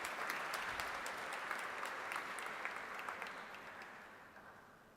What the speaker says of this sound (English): This shows a big round of applause for all our students.